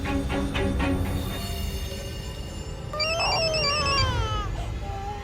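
A telephone ringback tone sounds over a dim, steady hiss while a number is being called, with the ringing pattern rising clearly about halfway through and fading after a second or so.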